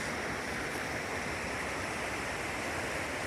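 Rapids on a stream near Little Rock Pond, Vermont, roar as a steady, loud, dense wash of rushing water close by, unbroken for the whole stretch with no voices.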